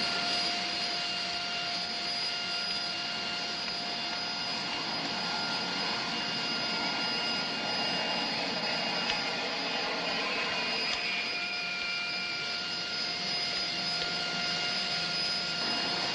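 A jet airliner's engines roar steadily and loudly throughout, a constant close whine with high tonal hum and broadband rush, no talk over it.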